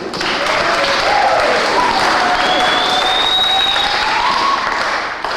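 A church congregation applauds in a dense, continuous wash of clapping that swells and holds for several seconds, with faint voices and cheers running through it.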